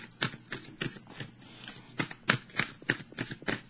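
Tarot cards being shuffled in quick bursts, about ten crisp riffling sweeps in a steady rhythm, close and clear with no talk.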